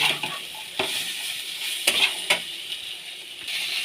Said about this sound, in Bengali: দিয়ে এবার ভালো করে মশলাটা কষিয়ে নেব।